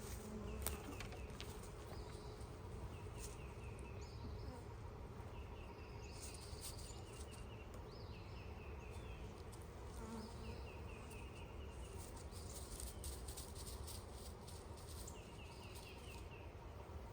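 Steady, dense buzzing of many honey bees swarming around an open hive during a brood inspection, a continuous soft drone with no pauses and no voices.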